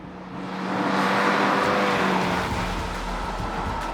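A steady, throaty engine drone from a Subaru BRZ 2.4 with automatic transmission swells and holds with a rough rushing intake roar, fairly loud and close, with no talking.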